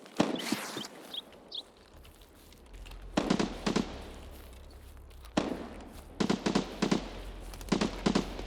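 Distant gunfire in the video game Escape from Tarkov: several short bursts of sharp shots crack out in separate volleys, faint and far off over a quiet background.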